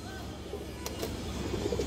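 Tournament-flying pigeons coo in a few soft, low bursts at close range, alongside light background noise and brief clicks.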